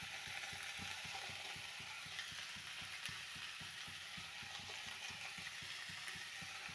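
Chopped potato, carrot, tomato and beans fry in a pan for a vegetable palya, a faint, even sizzle broken by a regular rhythmic scraping or stirring pulse, with no voices.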